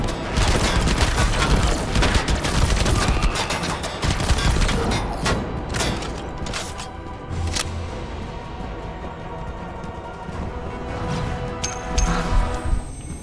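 Rapid gunfire in the sci-fi FPS game AILIENS, with a powerful pistol firing dense, continuous volleys of loud bangs and booms and almost no pause.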